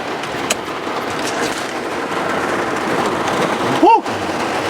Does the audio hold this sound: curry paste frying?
no